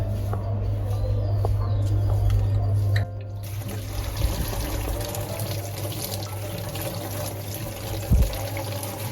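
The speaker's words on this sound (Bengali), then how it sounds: "পেঁয়াজ কাটা শেষ, এগুলো ভালো করে ধুয়ে নিতে হবে।" Chopped onions are rinsed under running water in a kitchen sink, a steady close tap stream that stops after a few seconds, followed by quieter splashing, handling and a brief clatter, with birds faintly outside.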